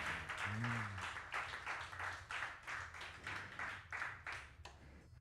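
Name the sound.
audience applause at live show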